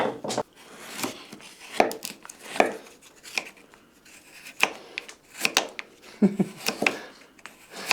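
A knife blade chopping into green wood in an outdoor green-woodworking setting, a string of sharp irregular strikes of varying loudness spread across the stretch with short gaps between them, close by and with no talk.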